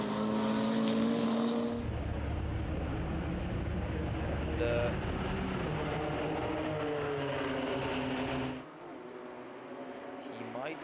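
A BMW M2 race car in the BMW M2 Cup Benelux at the Red Bull Ring comes into the pits, its loud engine whine shifting and dropping away near the end, with a commentator talking over it.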